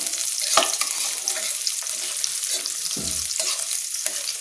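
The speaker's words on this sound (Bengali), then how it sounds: "পেঁয়াজটাকে লাল লাল করে ভেজে নেব" Sliced onions fry in hot oil with panch phoron, dried red chilli and bay leaf, giving a continuous hissing sizzle with a few soft stirring scrapes and knocks.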